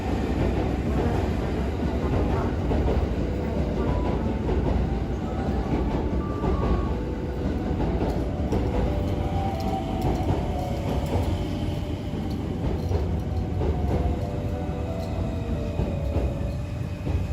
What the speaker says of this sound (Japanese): 寝台特急サンライズ瀬戸出雲が入線してきましたよ